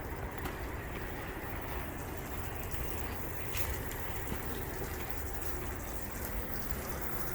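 Water runs non-stop and floods a residential yard, a faint, even hiss of flow that holds without a break.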